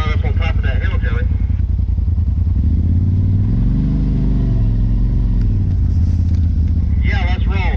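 Off-road side-by-side engine running steadily on a trail at Windrock, a continuous mid-pitched motor drone that rises and falls slightly, with people talking over it at the start and end.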